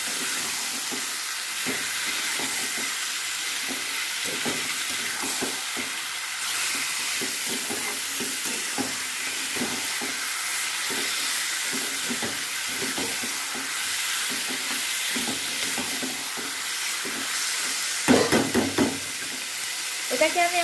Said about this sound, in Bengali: এবারে চিকেনের টুকরোগুলোকে ঢেলে দিলাম। আবারও এটাকে একটু নাড়াচাড়া করে নিচ্ছি।